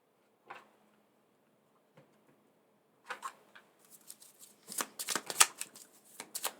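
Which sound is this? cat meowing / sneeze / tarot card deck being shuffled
tarot card deck being shuffled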